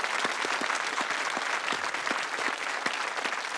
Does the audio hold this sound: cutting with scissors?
no